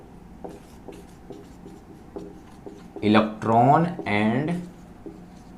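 Faint scratching of writing on a board during a physics lesson on electricity, with soft strokes in the opening seconds before a voice speaks clearly over the rest.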